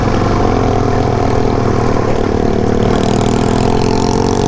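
A Suzuki DRZ400 dual-sport motorcycle engine runs loud and close at a steady idle-to-mid rev, its rough low thrum continuous throughout with no voices.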